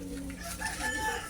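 A chicken crows and clucks nearby, a brief call with a rising tonal crow over background noise.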